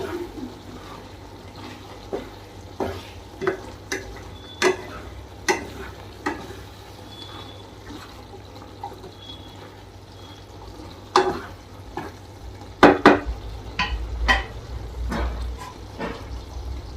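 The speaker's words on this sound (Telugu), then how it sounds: "తిప్పుతూ ఉన్నా కూర మాడకుండా" A spoon scrapes and clatters in a pan of sizzling curry, stirred in separate clinks and scrapes over a low steady hum, busier toward the end.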